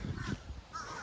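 Crows cawing outdoors on a windy day, two or three harsh caws in quick succession close by, with wind noise underneath and no talking.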